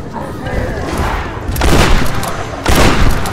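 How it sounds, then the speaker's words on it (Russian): Gunfire from the Tomb Raider video game: two loud broadband bursts of shots land about a second apart over a constant rumbling game background. "Ну, как бы, стрельба."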